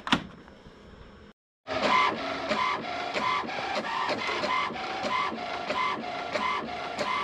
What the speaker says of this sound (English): let it print, and then I'll be back.